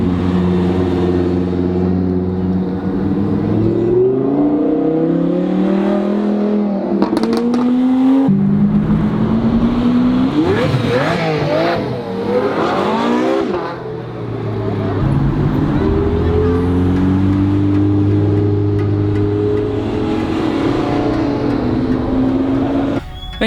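Vintage cars drive at an event, their engines revving loudly with pitch rising and falling as they pass one after another in a steady, continuous stream.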